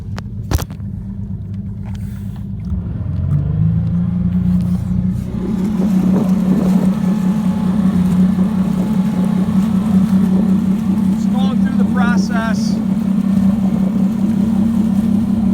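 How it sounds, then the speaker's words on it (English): Evinrude ETEC 150HO outboard engine on a Glastron CVX16 boat, loud steady roar rising as throttle opens to full, then holding a constant droning hum throughout. "I'm going to go back full throttle in the forward position"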